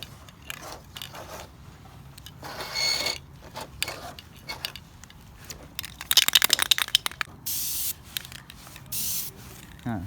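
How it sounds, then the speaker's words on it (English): Aerosol spray paint can hissing over a 1/48 scale Revell F-4U-4 Corsair model kit, in several short close bursts, some sputtering as the can runs low, with quiet handling noises between. "I don't know if there's much paint in this. Oh yeah, some paint's coming out."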